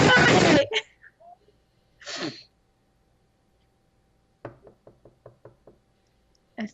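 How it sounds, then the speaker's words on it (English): Knocking at a door in a quiet room, a quick run of about eight light raps in steady rhythm, after breathy vocal sounds and gasps earlier. "So knock at the door."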